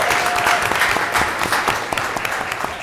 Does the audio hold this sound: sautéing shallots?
no